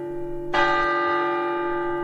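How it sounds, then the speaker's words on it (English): A single breakfast bell at a summer camp is struck once and rings out clearly, a bright metallic tone that lingers and slowly fades. "That's the breakfast bell."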